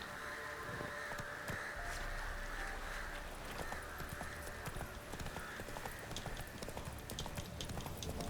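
Roach the horse gallops in a video game, a quiet steady clip-clop of hooves running over a low background with no talking.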